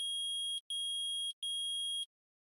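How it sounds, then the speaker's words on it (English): A metal detector in the video game Phoenix Wright: Ace Attorney gives three steady, shrill electronic beeps of equal length with short gaps between them. The tone is clear and sounds alone. "It's beeping. The metal detector's found something."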